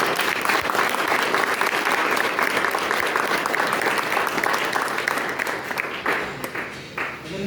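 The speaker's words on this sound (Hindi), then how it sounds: "एक बार तालियां हो जाएंगे।" Applause from staff and students at a Constitution Day celebration, a full steady roll of clapping, fairly close, tapering slightly before briefly rising again at the end.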